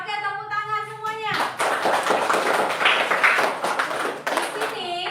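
A classroom of fifth-grade students clapping their hands together, a dense burst of many claps starting after a short spoken opening, mixed with children's voices and chatter over the applause.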